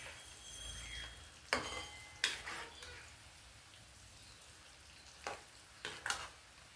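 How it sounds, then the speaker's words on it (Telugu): Ingredients for cauliflower and raw mango aavakaya pickle fry lightly in a pan, a steady soft sizzle broken by several sharp scraping stirs and clatters. "జస్ట్ లైట్గా వేగించాలి అంతే, ఎక్కువ అక్కర్లేదండి."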